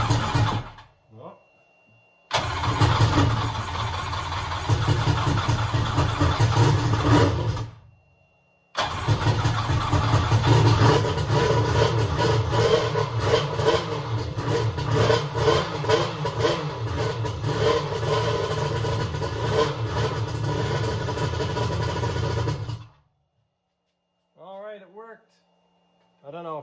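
An 1100 engine cranks and catches, then runs loud and steady at a rumbling idle with uneven revs, cutting out briefly before running again; a person speaks near the end.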